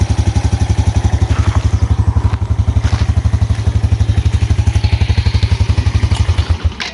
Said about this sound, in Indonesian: Nyalakan mesin dan dengarkan suara mesinnya.